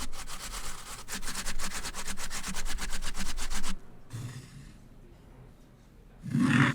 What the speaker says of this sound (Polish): Zetrzyjcie wszystkie ziemniaki na dużej tarce.